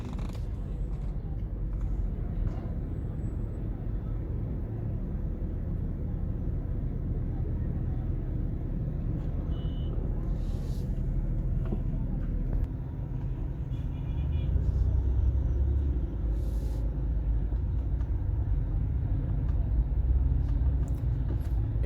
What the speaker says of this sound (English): You can see how freely those vehicles are moving